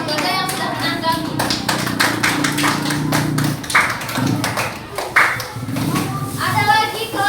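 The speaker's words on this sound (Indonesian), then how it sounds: "Tepuk tangan dulu untuk kelompok 1 dan kelompok 3 yang sudah menanggapi" Classroom applause for student groups after their presentation, a burst of brisk hand clapping from a group of students, mixed with a teacher talking over it.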